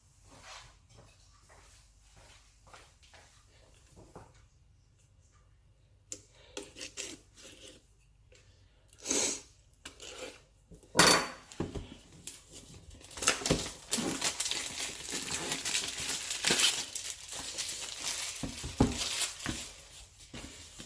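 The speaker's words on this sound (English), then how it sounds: "let's get a knife and get it open" A knife slicing and scraping through cardboard and packing tape to open a Hive Active Heating unit's box, scattered soft scratches building into louder ripping and rustling bursts, close by, with no talking.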